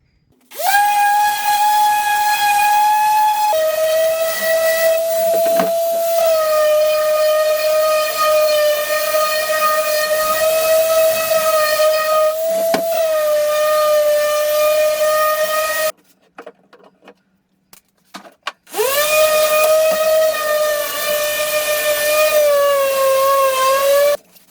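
A power sander works over a wooden garden planter with a loud, steady high whine, cutting out for a couple of seconds near the end before starting up again.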